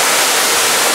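A waterfall on Costa Rica's Nicoya Peninsula gives a loud, dense, unbroken rushing roar close by, with no voices.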